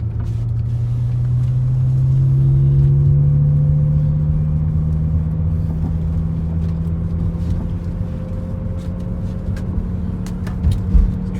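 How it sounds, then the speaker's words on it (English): A tuned V10 BMW M5 running E85 launches down a drag strip with its tires spinning, a loud, deep engine roar rising in pitch through the gears and then easing off. "totally blew the tires off again"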